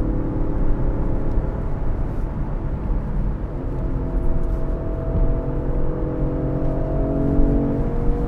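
Steady engine and road rumble heard from inside a 2022 Range Rover Sport on the move, a low continuous whir with slight rises in pitch as it picks up speed.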